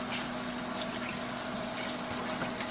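Water is poured into a pot of simmering pork steaks, a steady gushing hiss without pause, fairly close and continuous, with no talking.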